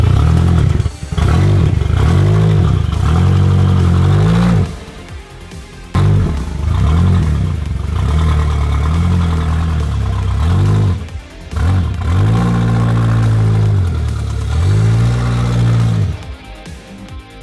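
A Nissan 240SX engine runs loud and rough as the car backs up under its own power for the first time, its note surging and dipping in uneven bursts, struggling to hold an idle.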